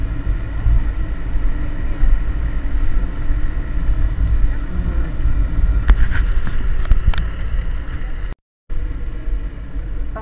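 A motorcycle climbs a newly cemented uphill road in Sta. Catalina, its engine a steady loud rumble mixed with heavy wind buffeting throughout, with a brief dropout near the end.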